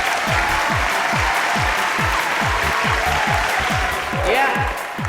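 Steady applause from a crowd for a band fills the room, loud and continuous, with a regular low thumping beat underneath and a brief voice near the end.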